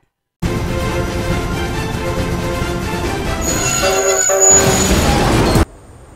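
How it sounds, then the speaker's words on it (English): Steady rumbling toy train noise runs throughout, joined by a sustained horn-like tone near the end before it cuts off abruptly. "She travels on a toy train!"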